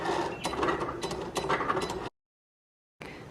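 A Cricut machine cuts vinyl loaded on a light grip cutting board, its carriage whirring and clicking in short mechanical bursts for about two seconds, then stopping in silence before the motor starts up again.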